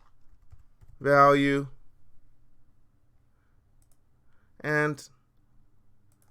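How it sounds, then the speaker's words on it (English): Soft, sparse clicking of a computer keyboard runs faintly through the quiet background, with brief bursts of a man's speech over it. "I'm going to type in the text parameter"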